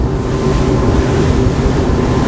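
A SACS Strider 11 boat runs offshore at 30 knots, its engine drone mixing with rushing water, hull slap and wind buffeting the microphone, loud and continuous with no talk.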